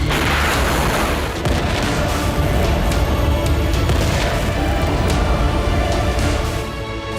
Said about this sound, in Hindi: तेल अवीव में आया विकराल बारूदी बवंडर।